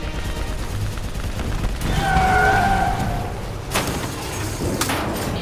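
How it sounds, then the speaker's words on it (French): Gunfire and explosive combat effects from the Black Ops 3 campaign, heard as loud bursts and booms over a rumbling battle bed, with game radio voices speaking French. "Concentrez vos tirs sur lui."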